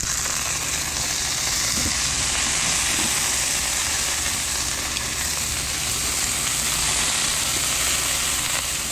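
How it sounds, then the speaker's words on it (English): Asparagus sizzling in oil in a pan beside cooking chicken, a steady dense hiss of frying that holds at an even level throughout, with no voices over it. "We're going to add a little oil over here on this side and go down with the asparagus."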